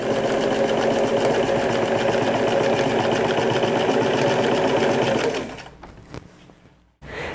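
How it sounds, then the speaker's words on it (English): A sewing machine stitching back panels of a pair of pants together, a loud, steady mechanical whir running close up for about five seconds before winding down and stopping, followed by a few soft handling clicks. "And then sew those two back panels together."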